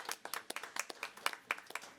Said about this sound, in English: Let's give everybody else another round of applause.